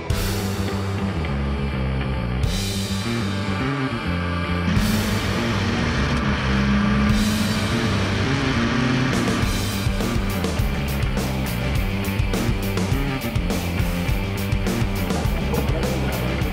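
Race cars at Jarama in the Lamera Cup pulling away at the start of a seven-hour race, a steady dense roar of several engines with rising and shifting pitches as the field accelerates together, loud and continuous throughout.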